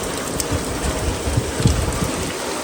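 Heavy rain pours down steadily with dense, hissing spatter and water coming in where there is no shade, a constant loud wash with no voices.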